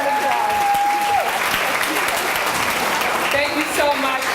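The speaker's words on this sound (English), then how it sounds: "Let's give her that applause." An audience at a Hollywood, Florida business women's event gives a congresswoman loud, sustained applause, a dense continuous wash of clapping from a crowd, with a voice briefly heard over it.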